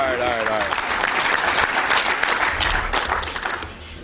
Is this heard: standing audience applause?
yes